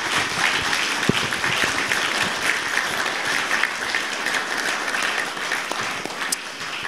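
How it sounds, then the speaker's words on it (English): Guests at a Jaguar Enthusiasts' Club evening give a sustained round of applause, a steady, even wash of many hands clapping throughout, with no talk over it. "a round of applause for them"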